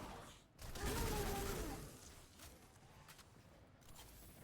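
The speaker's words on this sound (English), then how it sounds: "Get my SMG out now." Burst of submachine gun fire in Destiny 2, a loud rattling volley near the start that fades into quieter scattered shots and game noise.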